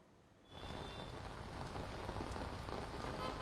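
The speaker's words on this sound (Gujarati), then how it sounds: "ભારે વરસાદ અનેક જગ્યાએ ચાલી રહ્યો છે તો અમુક જગ્યાએ ધીમી ધારે વરસાદ ચાલી રહ્યો છે।" Rain falling in Ahmedabad, starting abruptly after half a second and then pouring steadily as a dense, even hiss that fills the rest of the clip.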